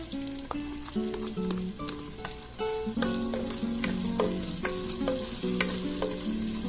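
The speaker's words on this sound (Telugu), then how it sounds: "ఆనియన్స్ మనకి బ్రౌన్ కలర్లో వచ్చేంత వరకు ఫ్రై చేసుకున్నాము." Finely chopped medium onions frying in a pan for mushroom egg biryani, giving a steady close sizzle with repeated clinks of a metal spatula stirring through it, no talking.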